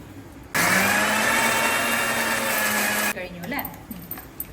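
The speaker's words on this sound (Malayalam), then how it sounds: "ഇതൊക്കെ മിക്സിയിലൊന്ന് ജസ്റ്റ് ഗ്രൈൻഡ് ചെയ്താൽ മതി." A kitchen mixer grinder grinds fenugreek, black cumin and hibiscus flowers for homemade hair oil. Its loud motor roars at a steady pitch for about two and a half seconds, then cuts off abruptly and leaves faint clatter and rustling.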